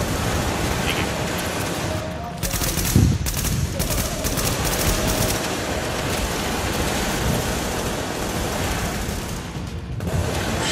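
Gunfire rattles in The Division at a Hudson refugee camp, a cluster of sharp rapid shots for a few seconds set against a constant hiss of background noise, with a couple of isolated shots later.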